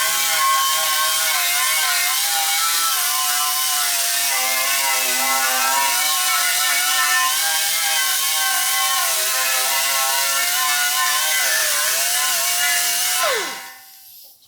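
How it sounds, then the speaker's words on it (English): A brass wire wheel spins against an aluminum bumper from a 1977 Camaro Z28, stripping paint with a loud, continuous whirring grind that wavers slightly in pitch and then winds down abruptly at the end. "just hit a little bit with the brass wire wheel, and paint comes right off"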